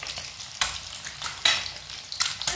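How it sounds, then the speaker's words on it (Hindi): Eggs frying on one side in a pan for an egg chilli curry: a steady close sizzle with several sharp scraping or stirring strokes at irregular intervals, and no voices. "अंडा डाल दिए हैं, इसे एक तरफ फ्राई होने देते हैं,"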